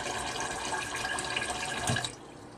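Tap water runs steadily into the inner pot of a Japanese rice cooker holding two cups of rice, a close, continuous splashing flow that cuts off sharply near the end, with no talking.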